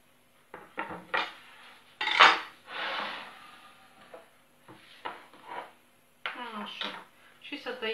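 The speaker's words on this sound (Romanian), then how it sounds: "Tăiem prunișoarele noastre, le tăiem mărunțele." A knife chops dried prunes on a board, giving irregular close taps and scrapes in short clusters, with a voice speaking over some of them.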